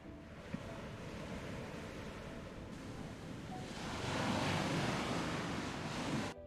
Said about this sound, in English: the water just kind of hitting the sides of the cavern, but also the sides of the boat as you are moving